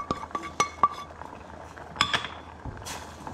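Metal utensil stirring a sauce of fried garlic and onion in a pan, with a few sharp clinks against the pan's side amid soft scraping and a faint background bubble.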